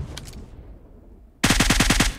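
An assault rifle fires in the mobile game PUBG Mobile: a couple of quick shots, a short lull, then a loud, close, rapid full-auto burst of about eight rounds, with no talking.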